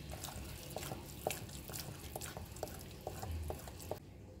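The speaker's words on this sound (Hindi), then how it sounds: "थोड़ा सा दूध डालेंगे और एक बार सब चीज़ों को अच्छे से मिक्स करके स्मूथ पेस्ट बनाएंगे" A spoon stirs brownie batter of vanilla essence and a splash of milk into a smooth paste, giving soft, steady wet scraping strokes with small clicks against the bowl, fairly quiet and close with no talking.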